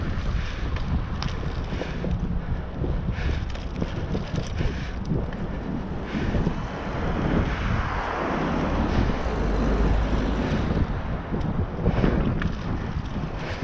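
A headwind buffets a cyclist's helmet camera on a cycleway between Eastington and Stonehouse, a constant rough, blustery rumble that swells and fades without a break.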